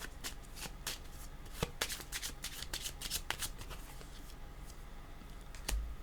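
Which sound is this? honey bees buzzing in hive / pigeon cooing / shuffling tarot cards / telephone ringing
shuffling tarot cards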